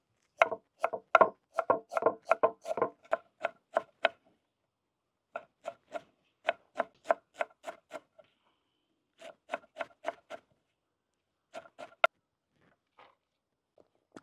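Coriander leaves being finely chopped with a knife on a board for Maharashtrian pithla, a quick run of crisp close taps, then shorter bursts separated by pauses.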